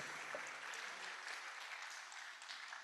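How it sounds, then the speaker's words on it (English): Steady applause from an audience at the opening ceremony of a stakeholders' workshop, a continuous even wash of clapping held at a moderate distance, fairly faint, with no one speaking over it. "Please, let's give her a round of applause."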